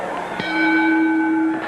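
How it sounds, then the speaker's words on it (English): A wrestling ring bell at a 1970s California match, one loud, clear ding that rings on with a long sustained tone and fades slowly, close and prominent. "There's the bell."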